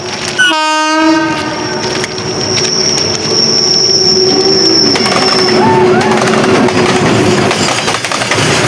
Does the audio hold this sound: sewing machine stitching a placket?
no